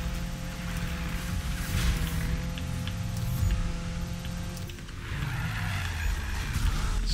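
A Subaru racing in Need for Speed 2015 gives a steady, droning engine tone that rises and falls in pitch as the car accelerates and shifts, close and continuous, with brief tire and impact noises near the end.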